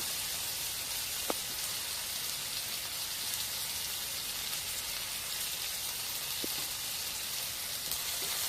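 Chicken liver sizzles steadily in a pan over a medium flame, a dense continuous hiss with a couple of faint sharp pops, no voices.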